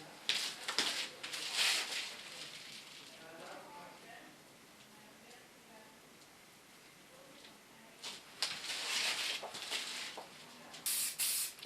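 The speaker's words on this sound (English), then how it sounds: "Use a little bit hairspray, not too much." Hairspray misted lightly onto a styled hairdo, several short hissing bursts near the start and again toward the end, quiet overall with soft handling noise in between.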